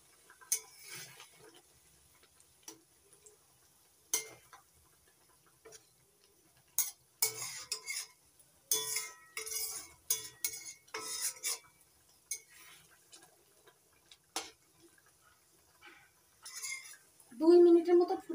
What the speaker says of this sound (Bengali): হালকা করে একটু নাড়িয়ে দিচ্ছি।